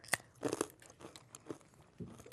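Crunchy holiday nut brittle is snapped and bitten, giving a few sharp, close crunches followed by quieter chewing crackles, with no talk.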